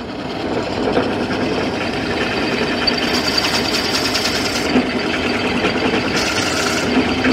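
A lathe turns a pen blank fitted with brass parts, giving a loud, steady, close mechanical whir and rumble that keeps on without a break.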